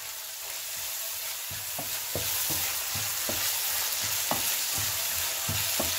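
Vegetables with tomato puree fry and sizzle steadily in a pan while a spoon stirs through them, making a regular series of soft scraping taps over the constant hiss.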